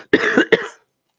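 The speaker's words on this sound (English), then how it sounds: "Sorry for coughing in your ear." A single close, loud cough bursts out in three quick rasping pulses, then stops, leaving silence.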